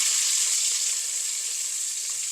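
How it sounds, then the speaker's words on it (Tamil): Brinjal pieces fry in a pan for a spicy prawn and eggplant curry, producing a steady bright hiss of oil sizzling close up with no talking. "இந்த கத்திரிக்காய் கொஞ்சம் வதங்கட்டும் கத்திரிக்காய் கொஞ்சம் பொரிஞ்ச மாதிரி இருக்கட்டும்"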